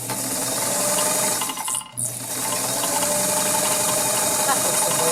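A Kenmore Model 33 basic zigzag sewing machine stitching, with a rapid steady mechanical whir and clatter close up that pauses briefly near the middle and then resumes.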